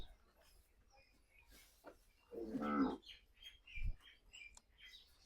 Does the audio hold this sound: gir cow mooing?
yes